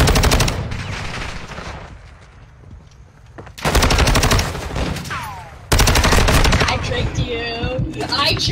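Light machine gun fire in a first-person shooter video game: long sustained bursts of rapid automatic shots, loud and close, broken by a short lull, with game effects and faint background sounds between bursts.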